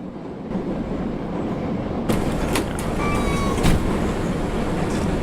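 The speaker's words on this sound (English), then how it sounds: "so the train's about to collide into something in 20 minutes" A moving train in the video game Friend Process rumbles continuously in the background, a low steady roar that grows slightly louder partway through with a few metallic clanks.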